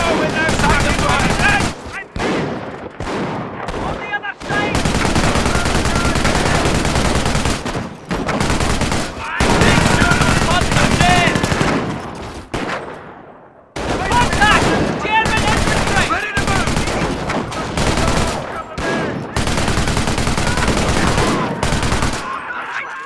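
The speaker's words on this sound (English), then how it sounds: "An MG emplacement is an excellent defense against attacking infantry." A machine gun emplacement fires at attacking infantry in the Company of Heroes video game, with loud bursts of automatic fire, broken by short pauses and mixed with other battle noise, going on for a long stretch.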